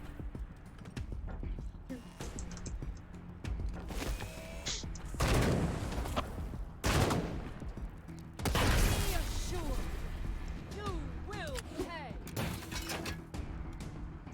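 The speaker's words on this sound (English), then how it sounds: "Oh, the other turret shot it, okay." Turret gunfire in the video game Wasteland 3, several loud broadband bursts of shots at irregular intervals over a busy game soundscape, with speech present throughout.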